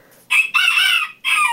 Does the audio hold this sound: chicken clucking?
yes